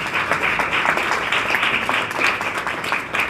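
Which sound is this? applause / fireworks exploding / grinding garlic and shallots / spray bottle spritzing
applause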